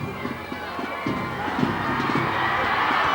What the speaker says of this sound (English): And the cheer goes up again